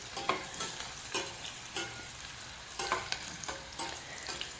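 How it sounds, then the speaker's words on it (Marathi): A medium onion, finely chopped, fries in hot oil and gives a steady close sizzle. Regular scraping stir strokes cut through the sizzle, and no one speaks. "तेल चांगले गरम झालं की त्याच्यावरती कांदा इथे मी एक मध्यम साईजचा कांदा बारीक चिरून घेतला आहे तो आपण छान गुलाबी रंगावरती भाजून घेऊयात"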